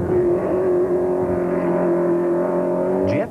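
A Ford Laser rally car drives along a mountain trail, its engine holding a steady loud drone that rises in pitch at the very end.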